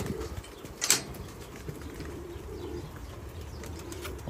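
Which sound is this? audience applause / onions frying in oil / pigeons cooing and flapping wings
pigeons cooing and flapping wings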